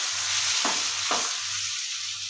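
Cooked potatoes tumble into a pan of hot oil with curry leaves, giving a steady high sizzle broken by two short scraping stirs and a low hum beneath, with no one speaking.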